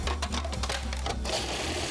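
A food processor pulses fava bean puree in a rapid mechanical whir with chattering blade rhythm, close and fairly loud for a couple of seconds.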